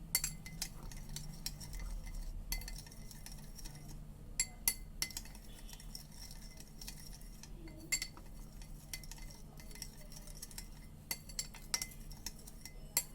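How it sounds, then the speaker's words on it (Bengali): Onion salad being mixed with mustard oil in a bowl gives faint, scattered clinks and light scraping of a utensil against the dish over a quiet background, with no voices. "তো এটা আমি ভালো করে মিক্স করে নিচ্ছি।"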